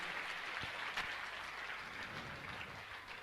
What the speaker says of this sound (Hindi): मैं चाहूंगा उनके सम्मान में आप सभी जोरदार ताली बजाकर उनका सम्मान करें।